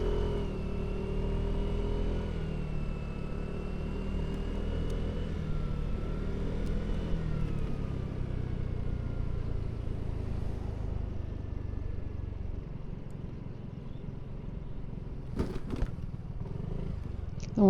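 A Vespa scooter engine hums steadily at low volume as it rides into a large petrol station, then fades and slows toward the end, where a few brief clicks appear.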